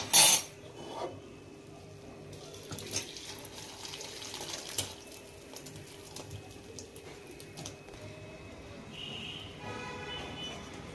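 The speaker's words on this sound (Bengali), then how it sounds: "সয়াবিনগুলো আমার সিদ্ধ হয়ে গেছে, এরপর আমি ঢেলে নিচ্ছি।" Boiled soybeans are poured out to drain, starting with a brief loud splash and followed by trickling water and faint clinks of a pot or utensils in a kitchen, with no voices.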